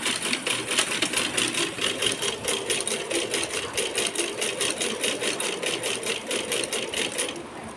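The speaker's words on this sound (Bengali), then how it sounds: "বালিশের কভার সেলাই করছে এই যে আমাদের হাত হাতে সেলাই করা মেশিন" A hand-operated sewing machine stitches a pillow cover with a fast, steady mechanical clatter, close and continuous, easing off right at the end.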